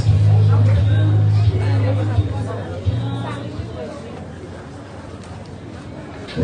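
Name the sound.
hubbub of a huge crowd at a wedding anniversary celebration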